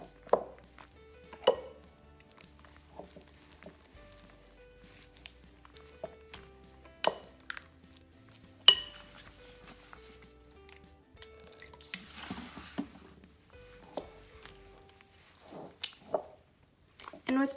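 Borax solution mixed into clear slime in a bowl: sparse wet squelches, clicks and drips at close range, with quiet moments between them and a brief burst of sticky squishing near the middle.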